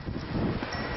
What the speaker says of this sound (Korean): 아침부터 바람이 심상치 않다.